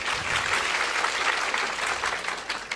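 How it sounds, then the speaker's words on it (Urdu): An audience at a spiritual discourse claps in a dense, steady burst of applause that fills the whole moment with no pause or voice over it. "اس سوال کے لیے تالیاں بجائیے۔"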